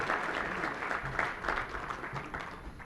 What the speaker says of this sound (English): let's give these fine folks another round of applause to all of our elected officials